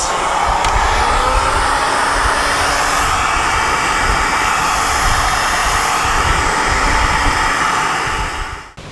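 A heat gun blasting a loud, steady roar at close range while shrinking heat-shrink tubing on rear camera wiring in a VW Golf MK7, running continuously and cutting off at the very end.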